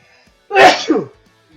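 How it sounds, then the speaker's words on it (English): A single loud, forceful sneeze close up, with a sharp burst and trailing exhale, surrounded by near silence. "had to sneeze really, really hard"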